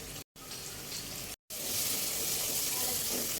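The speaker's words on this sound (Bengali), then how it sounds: "এখন আমি আদা রসুনগুলো একটু বেজে নিব" Ginger and garlic paste with spices frying in a pan, a steady quiet hiss of sizzling oil that grows louder and brighter after a couple of short cuts.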